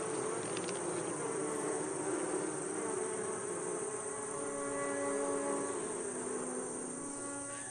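Bees buzzing high in the canopy of the Amazon flooded forest, a dense, continuous drone of many insects with shifting tonal whines, close and steady throughout with no voices.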